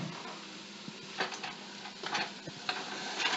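Onions and celery softening in a pot for chili, giving a steady low sizzle with occasional stirring scrapes and light clatter, close and moderately loud with no talking.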